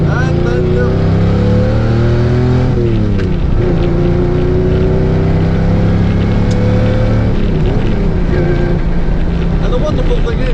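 An Aston Valkyrie hypercar engine revs hard while driving, a loud, continuous high-pitched roar with rising and falling pitch as it shifts and accelerates, close to the microphone.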